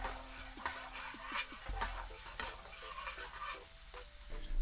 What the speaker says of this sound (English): add in the onion and methi and cook for around 5 minutes to soften